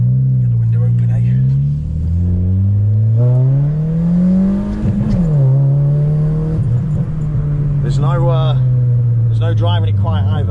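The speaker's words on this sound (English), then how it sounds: "just so you can hear the exhaust" Citroen Saxo VTR exhaust droning and revving on the move, engine pitch rising and falling through gear changes, loud and close from inside the car, with voices talking over parts of it.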